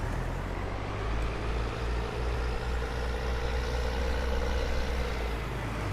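Steyr CVT tractor engine from a Farming Simulator 19 mod running steadily with a low, even drone and faint fluctuations, loud and close throughout, no talk.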